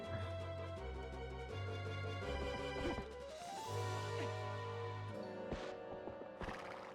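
A horse in the video game Demon's Souls whinnies loudly and neighs again, its calls stretched over game music with a few sharp thuds, and no one speaks.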